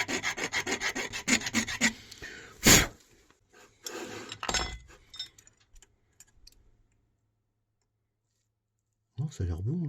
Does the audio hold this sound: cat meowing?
no